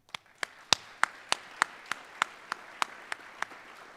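Applause for veterans at a Veterans Day school assembly comes through as a series of about a dozen sharp, evenly spaced claps over four seconds, crisp and close, with no talking.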